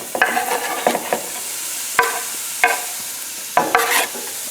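Onions and garlic sautéing in a pan for a spinach and prosciutto dip: a steady sizzle with several distinct scraping stirs at irregular moments, close and fairly loud, with no voices.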